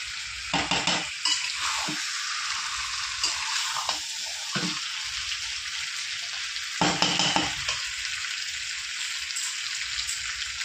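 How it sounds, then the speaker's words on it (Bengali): Mutton being stir-fried as kosha in a pan: a steady broadband sizzle runs throughout, broken by several scraping stirs of a spatula against the pan, with a louder burst of stirring near the end and no talking. "ভালো করে কষিয়ে নিয়েছি বন্ধুরা, আর একটু কষিয়ে নেব"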